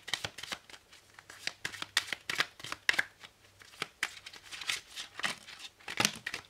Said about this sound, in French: Alors, on va tirer trois cartes du Merry Christmas.